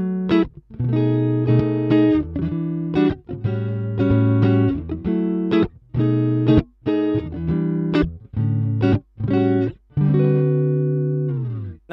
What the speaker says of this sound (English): This is a Roland JC120,